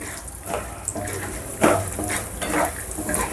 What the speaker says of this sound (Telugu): వేసుకొని మీడియం ఫ్లేమ్లో పెట్టుకొని ఫ్రై చేసుకోవాలి.